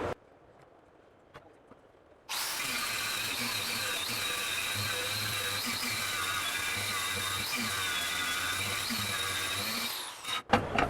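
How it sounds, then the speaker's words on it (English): An angle grinder fitted with an Illuminator wheel grinds aluminum at a fabrication trade show. After a quiet start it bursts into a loud, sustained high-pitched whine with a harsh rasp for about eight seconds, then cuts off abruptly. "the best wheel out there when grinding aluminum"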